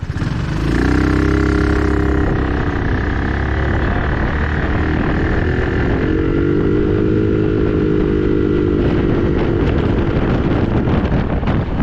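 A Honda Helix scooter engine revs steadily while the brake is held, rising and falling in pitch, loud and close under heavy wind noise on the microphone.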